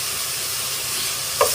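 Sweet potato, squash and okra sizzling in a dry pan with no oil, a steady close hiss of frying with a brief stir near the end.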